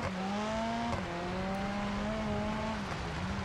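A car's engine drones and strains while accelerating through mud in BeamNG.drive, a steady tonal whine that briefly dips and recovers, heard clearly with no voices over it.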